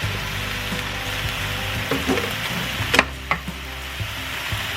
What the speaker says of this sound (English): you're gonna cook it up with your onions and your mushrooms